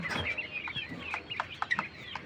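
Young coturnix quail give a quick series of soft, high chirping calls close by, fairly quiet and uneven in rhythm, with no talking over them.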